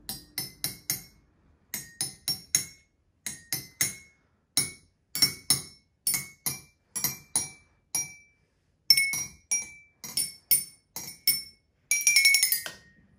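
Wine glasses are struck with small cardboard paddles on barbecue skewers, giving bright glassy clinks in quick groups of taps separated by short pauses, close and clear, ending in a rapid flurry of strikes.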